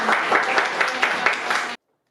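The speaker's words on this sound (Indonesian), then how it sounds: "tepuk tangan dulu dong" Classroom applause, a short burst of clapping from a small group of students with a slightly pulsing rhythm, close and fairly loud, cutting off abruptly after under two seconds.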